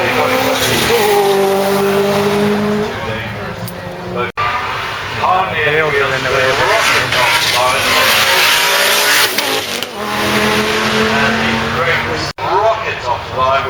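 A Maserati race car accelerates hard off the line, its engine roaring loudly and continuously with rising revs and a slight tire squeal, while a voice talks over it throughout.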